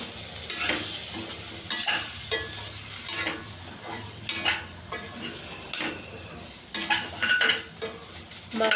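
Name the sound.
spices being stirred slowly in frying pan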